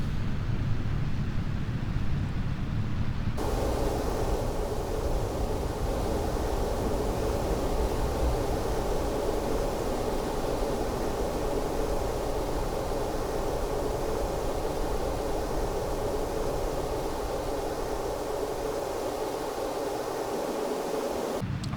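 Rocket engines roar at full throttle during a launch in Kerbal Space Program, a sudden loud, steady broadband rush that starts a few seconds in and holds without break to the end.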